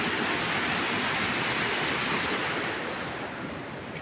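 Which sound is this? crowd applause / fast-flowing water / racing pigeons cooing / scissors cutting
fast-flowing water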